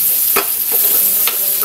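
Garlic, onion, ginger and tomato sauté in hot oil, a steady close sizzle with a few brief stirring scrapes, no talking.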